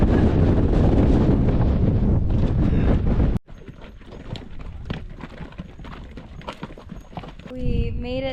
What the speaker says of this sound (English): She's windy.